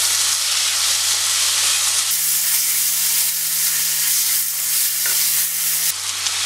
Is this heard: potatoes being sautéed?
yes